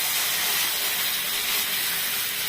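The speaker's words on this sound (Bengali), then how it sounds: "আমি আন্দাজ মতো তেঁতুল জলটা দিয়ে দিচ্ছি" Tamarind water splashed into a hot pan for a Bengali fish curry, giving a loud, steady broadband sizzle and hiss that fills the whole moment without any voices.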